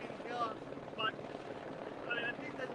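A helicopter hovers and moves overhead outdoors, giving a steady broad rumbling whir that stays loud throughout, with someone talking over it.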